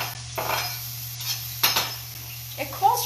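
Onion pieces tipped into a hot pan sizzle softly in a home kitchen, with a few clinks of a utensil against the pan and short bursts of scraping as they are stirred.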